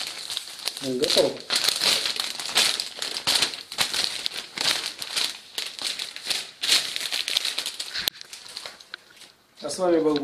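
A plastic bag for oyster mushroom mycelium is handled, giving dense, continuous crinkling and crackling close to the microphone, with brief bits of speech near the start and end.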